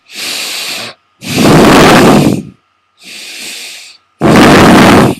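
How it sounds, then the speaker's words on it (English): Four loud, close breaths blown straight into a headset microphone, alternating shorter airy exhales with heavier rushing ones, each a harsh hiss separated by brief silences. "And yes, that is my breathing."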